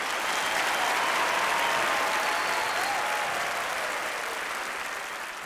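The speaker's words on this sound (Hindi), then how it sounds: "तालियों के साथ इनका अभिनंदन करते हैं हम" A studio audience on the quiz show Kaun Banega Crorepati claps for a contestant who has just won a cheque, a full, even burst of applause lasting a few seconds before tapering off slightly.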